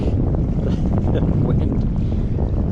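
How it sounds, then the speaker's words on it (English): Strong wind blows over open water during kayak fishing, producing a loud, constant buffeting roar against the microphone throughout. "Wind's a little more than I like"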